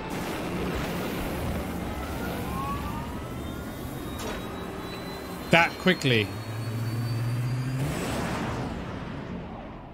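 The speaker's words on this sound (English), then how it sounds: "Oh, do we get to fly the jet? Let's get it fired up." A jet engine spooling up in the game Resident Evil 6, a rising whine with rumbling thumps and a heavy roar building underneath, while a person talks over it.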